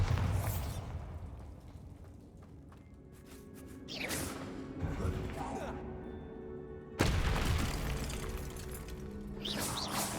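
The Bombarda explosion spell in Hogwarts Legacy: sudden loud blasts with whooshing magical effects, one midway and a sharper, stronger one later, over a steady rumbling game background.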